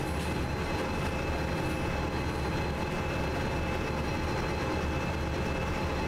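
A locomotive running on track in the video game Derail Valley, a loud, dense, continuous rumble and rolling rail noise with a steady high tone, constant throughout and with nobody talking.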